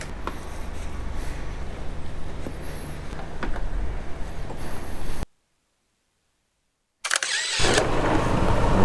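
A vehicle engine starts and runs with a steady mechanical rumble and faint creaks, breaks off into a couple of seconds of silence, then picks up again loud and close; no one speaks.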